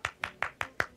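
Five sharp, evenly spaced claps from a single hand slapping in quick succession, crisp and close in a quiet room, with no talk over them.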